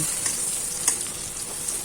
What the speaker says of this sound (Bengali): এবার একইভাবে বাকি মাছগুলোও ভেজে নেব